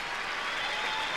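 Crowd at a tennis match applauds in a steady, dense wash of clapping, even and sustained throughout, with no voices standing out.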